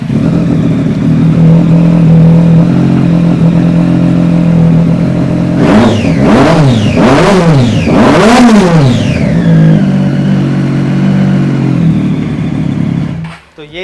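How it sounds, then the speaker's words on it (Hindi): A Triumph superbike's engine idles loudly nearby, then gets three or four sharp rising-and-falling revs in quick succession before settling back to a steady idle and cutting off. "तो ये था ट्रायम्फ का बहुत ही स्मूथ साउंड"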